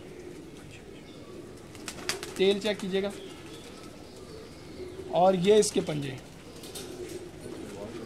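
High-flying pigeons on a rooftop coo softly in the background while someone talks close by, their low calls running under and between his speech.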